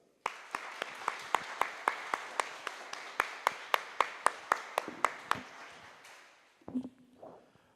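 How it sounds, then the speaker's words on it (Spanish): Audience applause greeting guest writers at a novel presentation, sounding as a run of distinct, evenly spaced loud claps that fade out, followed by a brief murmur at the end. "Para ustedes y para ellos, un buen aplauso."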